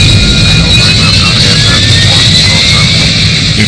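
A low-flying military jet roars loud and steady for the whole stretch, a dense engine rumble with a high whine that shifts slightly in pitch, no voices.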